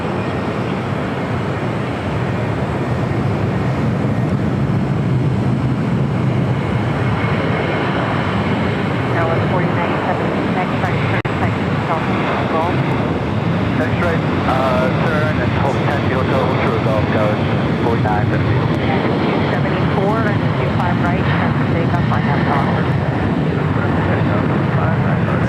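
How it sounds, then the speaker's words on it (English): An Alaska Airlines Boeing 737-800 takes off at LAX, its engines building into a sustained, loud roar that swells and rumbles steadily, with people talking faintly beneath the noise. "Next takeoff, Alaska Airlines Flight 1352 heading to San Jose, Costa Rica,"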